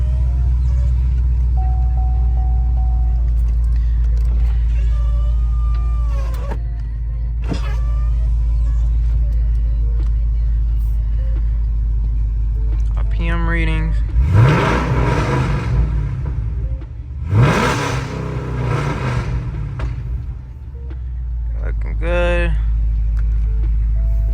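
A fifth-generation Chevrolet Camaro SS V8 idles with a steady low rumble throughout, fairly close. Several brief mechanical whirs and clicks from inside the car rise over the drone midway.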